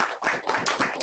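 An audience claps at an event, a short burst of dense, steady applause close by with no talk over it.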